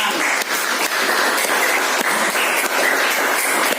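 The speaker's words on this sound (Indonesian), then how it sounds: "Tepuk tangan." A classroom of students applauds, a dense and steady burst of many hands clapping at once, close and fairly loud, with no talking.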